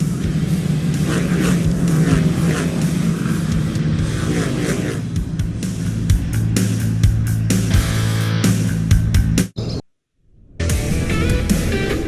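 Race cars roaring through an SRX heat race at Motor Mile, a paved short track in Pulaski, with a loud, dense engine drone and passing pitch shifts, then a sudden brief cut to near silence before the roar returns.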